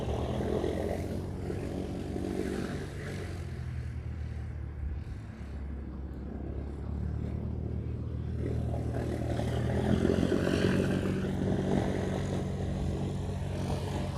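An Airbus A330 airliner departing from Hawaii for LAX: a long, distant, steady engine roar that swells in loudness toward the end, with no voices.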